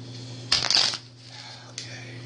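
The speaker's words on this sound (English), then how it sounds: "One last shuffle." A deck of reading cards is shuffled in one crisp, loud riffle lasting about half a second, followed by a short, fainter flick of cards over a steady low hum.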